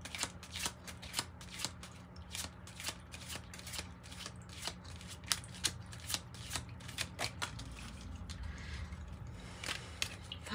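A Kipper card deck is shuffled close by, producing steady soft riffling and snapping card flicks in a quick, uneven rhythm that carries on throughout without any talking.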